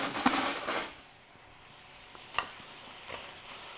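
Potatoes with fresh parsley, thyme and butter are stirred in a pan, starting with a burst of scraping and clinking that gives way to a softer steady sizzle broken by a few sharp utensil taps, with no voices.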